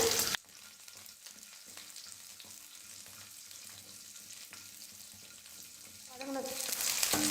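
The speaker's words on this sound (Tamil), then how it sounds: "இது கூடவே சின்ன வெங்காயம் சேர்த்துக்க போகிறேன்" Small onions frying with cardamom, a faint steady sizzle with occasional light stirring sounds and a louder rustle near the end.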